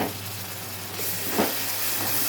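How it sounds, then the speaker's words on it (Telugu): Washed fresh green peas tip into a pan of fried onions, and a steady hiss of sizzling swells up close with a brief splashy burst as they land. "ఉల్లిపాయ వేగిపోయాక కడిగి పెట్టుకున్న బఠానీలు వేసుకున్నాం."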